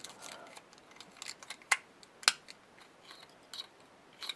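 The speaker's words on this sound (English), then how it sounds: "So we'll set him in there real quick." A Lego Batman minifigure being set into a Lego Tumbler vehicle, with small plastic clicks and light rattling close up, two sharp snaps standing out amid faint handling noises.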